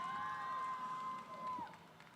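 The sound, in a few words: audience applause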